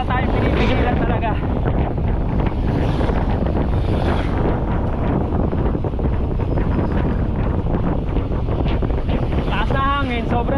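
Strong, very cold wind buffets the microphone in a constant roaring rush on a mountain trail in the Sierra Madre, with occasional faint voices beneath it.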